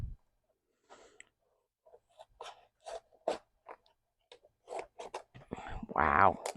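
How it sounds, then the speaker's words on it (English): Cheap $5 Hobby Lobby scissors snip through paper in a series of close, crisp crunching cuts with pauses between, while someone whispers and murmurs nearby. "These scissors are not the greatest."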